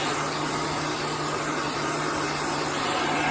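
A heat gun or hair dryer blows air over chalk paste on a surface, producing a loud, constant motor whir and airflow rush with a steady hum, close and unbroken.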